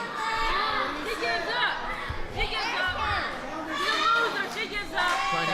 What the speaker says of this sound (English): The local crowd here at the Houston Premier Arena getting behind Christi Jaynes, giving her that energy